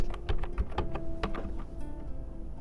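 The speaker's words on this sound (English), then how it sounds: "To set the drawing limits, type limits" Quick keystrokes on a computer keyboard enter a command into AutoCAD drawing software: a short, close run of irregular clicks over a low room hum.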